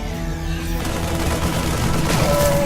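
Marines in StarCraft 2 pour continuous rapid gunfire into a dropship, a dense steady rattle of shots running the whole moment over a busy match soundscape with tonal game effects.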